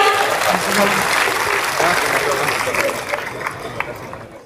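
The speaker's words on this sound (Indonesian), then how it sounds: "Kita berikan aplaus Bapak Ibu sekalian." An Indonesian audience applauds the arrival of the vice president at a formal event, with dense, loud clapping and crowd murmur that slowly thins out toward the end.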